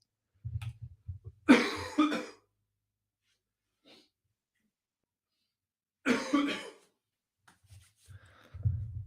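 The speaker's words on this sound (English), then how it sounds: "my cough here has chosen to get progressively worse every minute of me doing this live stream" A person with a worsening cough lets out two loud, harsh coughing bursts several seconds apart, close to the microphone in a quiet room, with soft breathing and small handling sounds between them.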